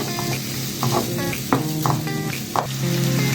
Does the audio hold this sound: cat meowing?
no